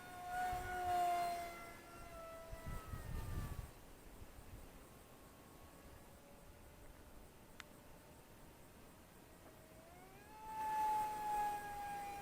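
A small Eachine SonicModell Micro Skyhunter RC foam plane with a 787 mm wingspan whines overhead as it climbs, its electric motor tone rising and falling, loud at first, fading into the distance, then swelling again as it returns.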